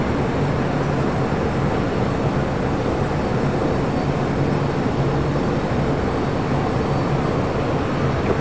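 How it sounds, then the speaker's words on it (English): An airliner takes off from runway 25 right at LAX as a steady, broad jet roar holds at an even level throughout, with no talk over it. "25 right, clear for takeoff."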